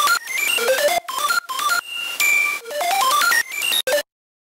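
Bright synth arpeggios and sustained tones from a track run through a Purple Audio MC77 FET compressor, loud and evenly levelled, with rapid rising note runs broken by short gaps before stopping abruptly.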